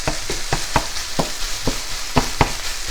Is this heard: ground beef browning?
yes